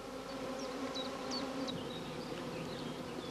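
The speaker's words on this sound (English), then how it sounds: "The bees will cluster around the caged queen within the next few hours." A dense, steady buzz of many honey bees clustering around a caged queen at a hive fills the air, with occasional brief chirps of birds faintly in the background.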